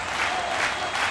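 A live studio audience claps steadily for a rock show broadcast, a dense, even wash of applause with no breaks.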